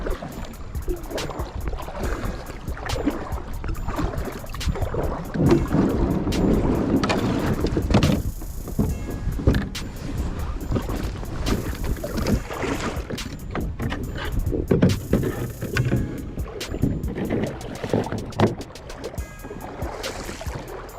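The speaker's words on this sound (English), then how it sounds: "I'm gonna try to get out here and drag my boat without getting water inside of my boots" A boat dragged by hand through a low, shallow river rapid on a January smallmouth bass outing, rushing water and scraping hull knocks running continuously and fairly close, with gusts of wind noise over the top.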